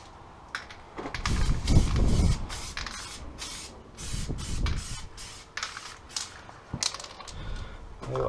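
Stone chip coating sprayed onto the sill of a Ford Transit Connect van, coming as a series of short hissing bursts with gaps between, plus some low knocking handling noise in the workshop.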